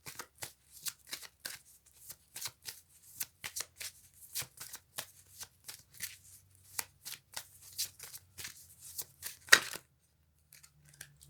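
A deck of tarot cards is shuffled in quick, crisp riffles and flicks, with bursts of snapping card edges repeating irregularly over about eleven seconds, close and fairly quiet, with no voices.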